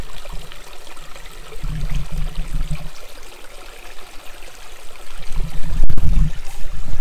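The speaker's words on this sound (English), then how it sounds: "This is Carlson Creek." Carlson Creek, a small stream feeding a campsite along the Superior Hiking Trail, flows and trickles close by with a continuous babble that swells louder toward the end.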